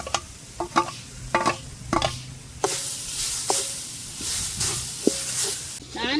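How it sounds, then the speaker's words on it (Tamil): Grated coconut dry roasting in a hot pan, with a spatula scraping and tapping in irregular strokes, a few sharp clinks, and a soft hiss rising in the later half; no voices. "நான் முதல்ல தேங்காய் பூவை வறுத்தெடுக்க போகிறேன்"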